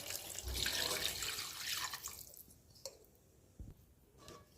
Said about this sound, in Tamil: இப்போ இதில் தேவையான அளவு தண்ணி சேர்த்துக்கலாம்